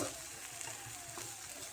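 Ridge gourd sizzles in a hot spiced tempering in a pan. The frying hiss is soft and brief and stays steady at a low level.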